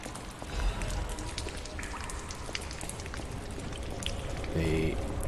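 Heavy rain in the video game Lies of P makes a steady, dense patter and hiss throughout, with scattered drop impacts and a faint low rumble, and someone talks over it.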